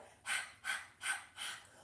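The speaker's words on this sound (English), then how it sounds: "the breath here is breath of fire. So either panting like a dog" Breath of fire from a Kundalini yoga session: four rapid, evenly spaced forceful breaths, close and quiet, with short pauses between each huff and no talking.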